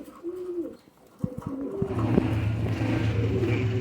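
High Flyer Kasuri pigeons, a pair of males kept in a small cage, give deep, resonant coos that start partway through and continue steadily, close by, with some soft rustling before them.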